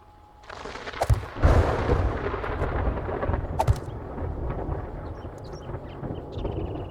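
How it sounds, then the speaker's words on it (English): Video game thunder in 7 Days To Die: deep rumbling rolls in with a loud crack near the start, then a long sustained low roar that slowly fades but keeps grumbling. "That was thunder."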